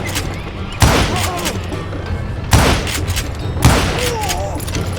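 Gunfire from the Western shooter Call of Juarez: Gunslinger, with three heavy booming shots spaced about two seconds apart over a busy game background with faint voices.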